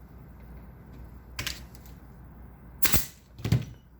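Canvas is stapled to a wooden stretcher frame: a quiet hand-held staple gun snaps twice, then a third time, each a short sharp click against low room hiss.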